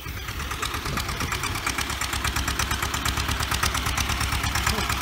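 A freshly painted red tractor engine idles close by, a steady rhythmic chugging with regular knocking pulses throughout, loud and even, with no voices.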